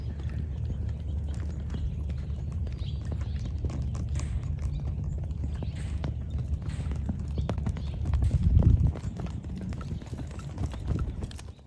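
Gaited horse's hoofbeats during a training clinic, a soft, steady clip-clop rhythm at moderate distance with a heavier thud or two near the end.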